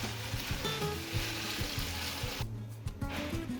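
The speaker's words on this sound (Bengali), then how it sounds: "এবার আমি গরম জল দিয়ে নেব।" Mutton kosha sizzling loudly in a pan, with a sudden hiss and bubbling as hot water is poured in near the end, close and continuous, with no talking.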